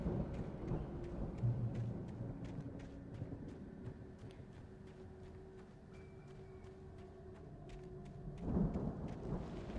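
Thunder rumbles through a rainy storm in the Alan Wake video game, a low continuous roll under steady rain with a louder swell near the end, no talking.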